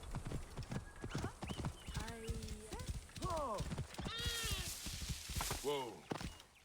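Horse hooves clip-clop in a steady rhythm in Assassin's Creed Origins, with whinnies and other game sounds layered around them and a voice talking over parts.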